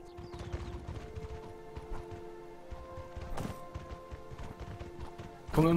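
Horse hooves clip-clop in a steady, quick rhythm in the video game Mortal Online, with tonal game sounds in the background and a sudden louder hit at the end.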